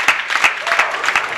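Brief, loud applause from a crowd at the 2013 World Championships men's team semifinals, a burst of hand clapping for the final ball.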